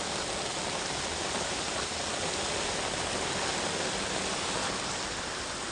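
Heavy monsoon rain in Vapi-Bhilad pours down from above in a dense, steady roar of water, loud and continuous throughout with no voices.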